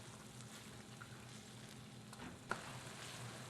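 Onions fry in sambal in a hot pan, giving off a soft, steady sizzle and crackle that continues evenly throughout, faint and at a slight distance.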